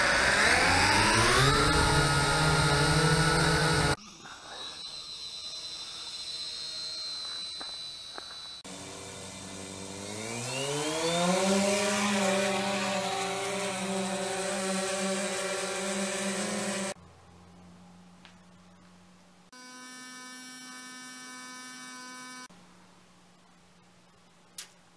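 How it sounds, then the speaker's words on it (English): Several recorded drone sounds played back one after another, each a steady buzzing whine with shifting pitch, some rising as if speeding up, with abrupt cuts between the separate recordings and no talking. "proceeded to like research drones and like drone sounds"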